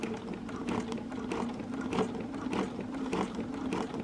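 Sewing machine stitching during free motion quilting, a steady fast mechanical whir with rapid rhythmic needle ticks, close and continuous.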